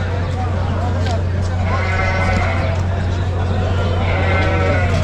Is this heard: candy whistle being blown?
no